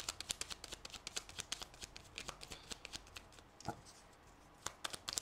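Tarot cards are shuffled and drawn in a steady run of quick, crisp riffling clicks and soft slaps, close and fairly quiet, with a brief rustle near the end and no talking.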